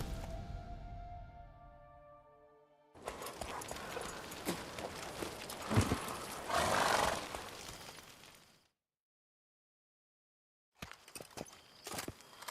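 Geralt's horse Roach in Witcher 3 galloping, steady clip-clopping hooves pounding close and loud for several seconds, then a silence before hoofbeats resume briefly; a musical tone fades out at the start.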